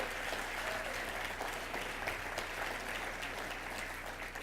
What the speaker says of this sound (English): the sponsors need a round of applause for what they do